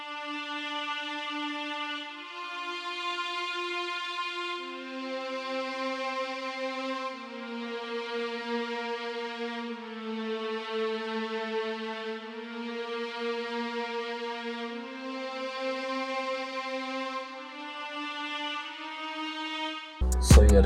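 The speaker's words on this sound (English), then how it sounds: "grab a string preset, the big legato strings, and just basically add some vibes in the background melody" A big legato strings preset carries a slow, sustained background melody in a hip-hop beat, with smooth gliding notes that swell and overlap steadily for about twenty seconds before a brief loud burst at the very end.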